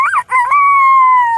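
A person's voice imitates a rooster crowing, a strained, drawn-out call rising after two short bursts and holding steady for over a second, close and loud with no other sound.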